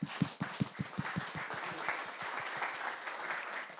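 Audience applause at a conference on ethics in documentary film, beginning with a few sharp individual claps and swelling into dense, sustained clapping from a room full of people.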